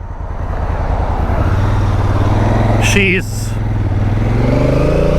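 A KTM 890 motorcycle is ridden with a steady engine drone that holds loud throughout and rises slightly in pitch toward the end as it accelerates, while a person speaks briefly over it.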